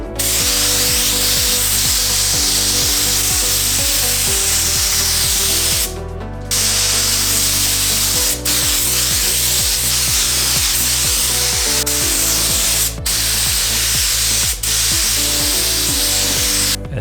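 Spray gun laying a second coat of paint on a Mazda Miata, a loud continuous hiss with a pulsing compressor or gun rhythm beneath, broken by a few brief pauses between passes.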